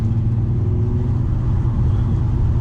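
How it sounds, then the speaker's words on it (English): Car engine accelerating out of a tight turn on a 2.4-mile race track, a steady, loud low rumble close by with no talk. "I start bringing up the throttle right now"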